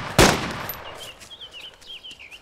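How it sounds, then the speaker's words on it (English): A single sharp gunshot cracks loudly in the DayZ video game, followed by faint bird-like chirps in the background. "Are you going to shoot him, or are you just going to shoot around him?"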